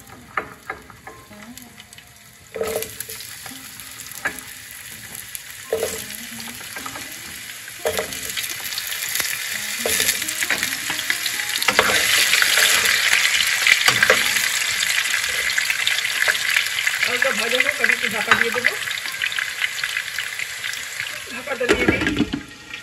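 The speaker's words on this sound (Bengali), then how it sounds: "এবার আমি আলুটা ভেজে নেব।" Potatoes frying in hot oil in a pan, a loud continuous sizzle that swells midway, punctuated by scraping stirs and clatter, with brief faint voices underneath.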